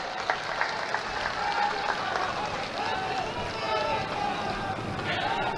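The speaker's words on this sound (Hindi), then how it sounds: "दोनों हाथ उठाकर ताली बजा दीजिए तो मैं मान लूं।" Applause from a large crowd at an outdoor Bihar election rally in Darbhanga, a steady dense wash of clapping with cheering voices throughout, close and loud.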